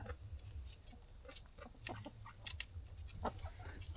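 Desi hens on a small home poultry farm give short, scattered clucks and soft calls over a low background rumble, faint to moderate in level, with no talking.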